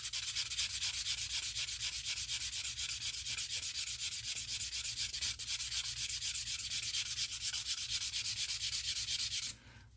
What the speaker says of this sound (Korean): 사포로 면을 다듬어 주니까요.